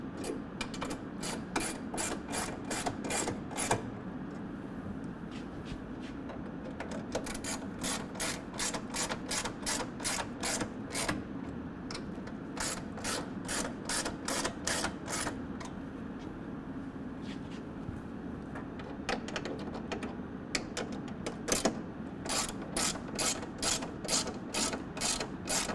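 Ratchet with an extension tightening a 13 mm bolt on a nerf bar bracket of a 2021 Ford Bronco, giving repeated bursts of sharp close pawl clicks in several runs, with no talking.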